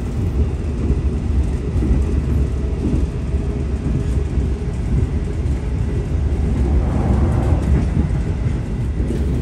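The KA Lodaya economy train runs through Rancaikek station in a steady, loud, broadband roar of wheels and carriage rumble, continuous and close, with no voices.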